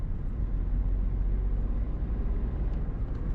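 A car drives steadily with a low, continuous engine and road rumble as the driver shifts into fourth gear, the drone loud and unbroken with no distinct gear-change transient.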